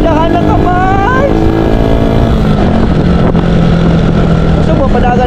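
A large motorcycle engine runs loud and close, a steady rumbling drone with shifting revs, while people talk and shout over it.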